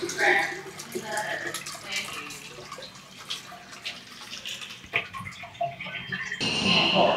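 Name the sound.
Japanese toilet flush activated by placing hand on sensor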